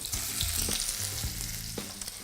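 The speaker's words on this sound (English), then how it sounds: "So we're going to pop the terrine in and listen for the sizzle." Vegetarian terrine browning in a hot pan, a steady, close sizzle of frying with a few soft knocks and shifts underneath, no talking.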